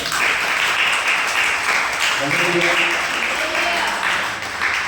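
A church congregation breaks into steady, full applause that carries on for several seconds, with voices mixed into the clapping.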